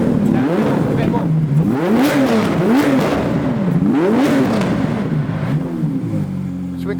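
Car engine with a decat straight-pipe exhaust revved repeatedly, loud and close, rising and falling in a series of quick blips before settling to a rough idle, with people talking over it.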